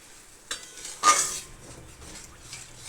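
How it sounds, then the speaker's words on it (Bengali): Spices for a pabda fish curry are stirred in a pan, with two brief scrapes of a spoon against metal over a faint, quiet background. "এবার ভালো করে এটাকে মিশিয়ে দেবো।"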